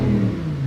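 A 2020 Lamborghini Huracan Evo's naturally aspirated engine revving, heard from inside the cabin: a loud, brief, deep droning rev with a strong low tone that dips and then rises again.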